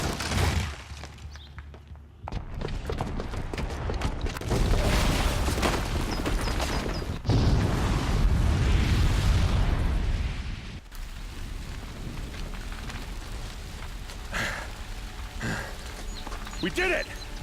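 A bomb booby trap exploding in Horizon Zero Dawn, a long loud roaring blast with rumbling debris that swells and surges for several seconds before tapering into scattered crackling and falling rubble.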